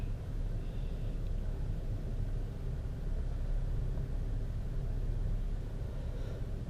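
A turbocharged Honda B-series engine builds a steady, low rumbling drone under acceleration on a pull, heard from inside the car, continuous and without talk.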